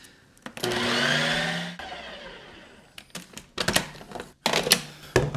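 A Ninja Creami machine spins a batch of no-added-sugar salted caramel gelato on its ice cream setting, a loud whirring blender-like motor rising and holding for a couple of seconds, then stopping, followed by a series of clunky mechanical knocks and thumps.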